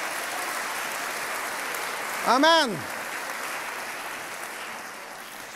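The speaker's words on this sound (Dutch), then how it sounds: "Geef een applaus aan de jongelingen van de kerk." A church congregation applauds with a steady wash of clapping for the young people of the church, while a single voice rises briefly over it in the middle.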